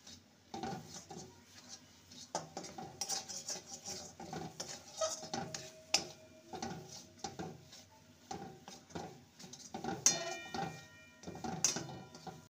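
A spoon scrapes and knocks against a pan as a semolina filling is stirred, giving irregular soft clinks and scrapes at close range and moderate volume.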